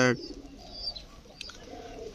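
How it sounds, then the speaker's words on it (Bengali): A soft, low coo from domestic local-breed pigeons rolls along close by in a pigeon house, with a faint chirp or two in the quiet background. "এটা হচ্ছে আমার দেশি কবুতরের ঘর।"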